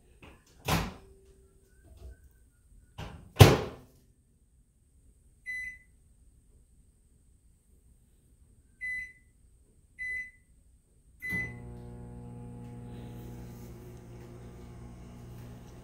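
A microwave door clunks open and shut, a few short beeps follow as buttons are pressed, then a steady low hum starts as the oven runs.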